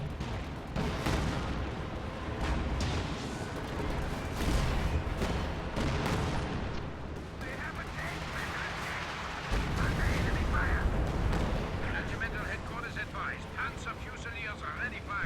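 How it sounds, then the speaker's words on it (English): Artillery and B4 howitzers fire in a video game battle, with repeated heavy booms and rumbling impacts layered over continuous combat noise and a voice talking through most of it. "B4s and artillery pounding away at that Panther, pounding away at that Jagdtiger"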